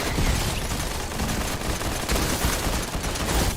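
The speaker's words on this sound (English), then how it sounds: "Returning for this week only, the flare gun is back. Ready, aim, fire." Flare gun fire in Fortnite, a dense, continuous barrage of crackling shots and bursts that stays loud and steady throughout with no pauses.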